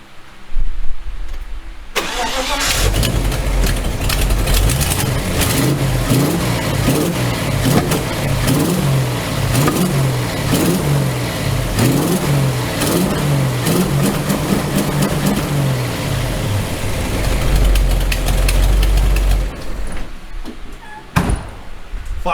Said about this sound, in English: I'll give her a few revs